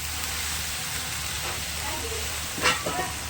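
Spice paste with tomato and salt fries in a pan, a steady low sizzle with faint stirring scrapes and a brief clatter near the end, a voice talking quietly over it.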